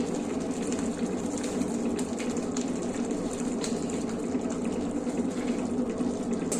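Beetroot upma simmering in a pot, giving a steady, continuous bubbling and low rumbling hiss that stays even and fairly close throughout, with no talking.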